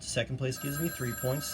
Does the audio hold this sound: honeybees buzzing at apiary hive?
no